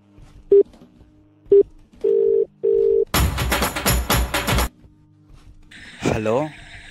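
A phone call being placed: short dial beeps and a steady ringback tone, then a loud burst of crackling line noise before a voice answers over the line.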